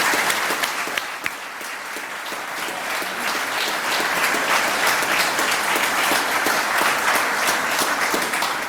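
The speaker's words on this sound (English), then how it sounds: "they all deserve a big round of applause" An audience at the Ellicott City community recognition ceremony gives the county executive and his team a loud, sustained round of applause, a thick continuous patter of many hands with a few sharper claps standing out.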